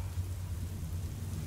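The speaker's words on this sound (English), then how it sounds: "I hear thunder. Pitter patter." Thunderstorm ambience from the video game Furi plays as a low, steady rumble of distant thunder under a continuous hiss of rain, with no voices.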